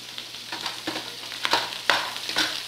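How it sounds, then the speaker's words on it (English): Peppers and green beans go into a pot of onions frying in coconut oil, a bright crackling sizzle with repeated stirring scrapes that swell into louder bursts, heard close and alone. "We're going to add our peppers and our green beans to the pot."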